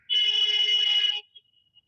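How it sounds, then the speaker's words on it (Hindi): A telephone ringtone sounds once during an online class, a single clear electronic tone held about a second, fairly loud, then quiet. "बीच में फोन आने लग गया किसी का।"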